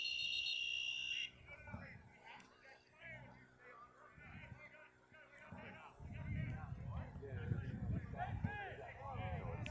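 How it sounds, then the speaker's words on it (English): A loud buzzer blares for about a second at a men's college lacrosse game between Saint Mary's and Idaho, then gives way to crowd noise and commentary. "Don't know what that buzzer was for."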